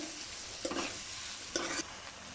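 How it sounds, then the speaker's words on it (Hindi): Chopped onions sautéing in a pan, a steady soft sizzle with two short, brighter bursts of stirring scrapes spaced about a second apart. "इसको हम सौते करेंगे टिल देन, जब तक कि ये नरम ना पड़ जाए, और नरम होने तक हम इनको फ्राई करते रहेंगे।"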